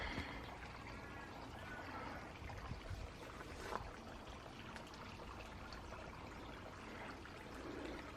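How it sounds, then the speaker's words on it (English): Water runs steadily in a shaded cottage garden, a soft continuous flowing and trickling wash at low level with no talk over it. "Sound of the water."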